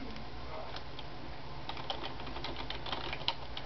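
Steady, light typing on a computer keyboard, quick soft key clicks at close range with no talking.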